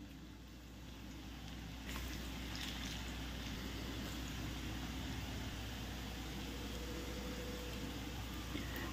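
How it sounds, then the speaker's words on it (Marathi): Onion bhaji (kanda bhaji) fry in hot oil over a medium flame, giving a soft, steady hiss that swells and thickens about two seconds in and then holds evenly, with no talking. "मीडियम फ्लेमवरच याला तळून घ्यायचं आहे।"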